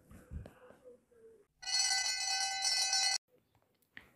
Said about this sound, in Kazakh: Қоңырау соқты.